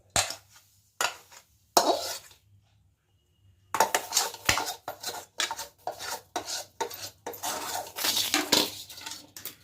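Hot ginger syrup mixture poured from a pot onto a ghee-greased metal plate, with a run of scraping metal clatters and clinks in uneven bursts, a pause near two seconds, then steady close scraping.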